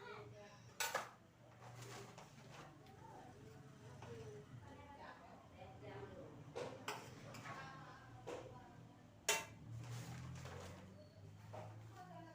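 Plates, pots and cutlery clink and clatter during lunch at a memorial feast in Aceh, scattered sharp metallic taps and scrapes at irregular intervals under a low murmur of voices and room noise, fairly faint.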